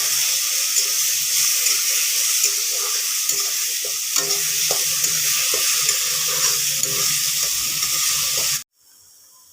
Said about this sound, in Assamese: ইয়াতে এতিয়া মই পিচি লোৱা পেষ্টখিনি দি দিম। আৰু ভালদৰে লৰাই দিম।